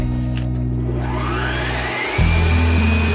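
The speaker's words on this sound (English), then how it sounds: "Whisk your egg yolks for about 10 minutes" Egg yolks being whisked for a mousse with an electric mixer, a loud steady motor whine that dips briefly and then resumes at a higher, stronger pitch.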